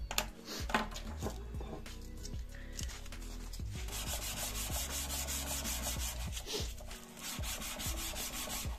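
Close, steady rubbing of a polishing cloth with paste over metal, a gritty rhythmic friction sound repeating in short strokes.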